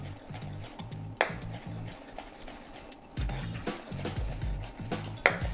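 A knife chops olives coarsely on a board in a home kitchen, giving a run of quick, fairly soft taps in short bursts, with a few brighter clicks and light background noise.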